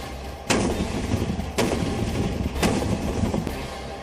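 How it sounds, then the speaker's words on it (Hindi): Heavy booms of shelling and gunfire near border villages, three loud blasts spaced about a second apart over a dense, rumbling background, with no voices. "गोलियों और गोलों के धमाकों के बीच दिन तो जैसे तैसे गुजर जाता है"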